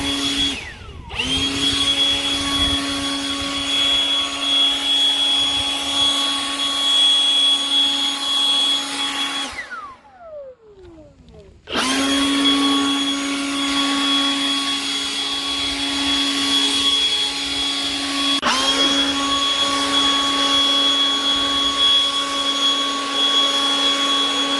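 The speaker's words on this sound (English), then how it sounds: "you just saw the tapered nozzle used with some grass clippings" Milwaukee M18 Fuel dual-battery 600 CFM blower with a tapered nozzle clearing grass clippings, a loud close high-pitched whine that cuts out briefly, spins down, then roars back up to full speed.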